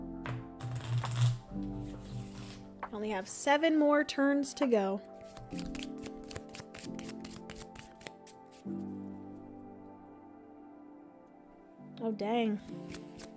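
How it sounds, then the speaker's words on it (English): Playing cards for the board game Moon are shuffled by hand in quick rapid riffles and flicks, close and crisp, interspersed with a person talking. "Let me shuffle these babies up"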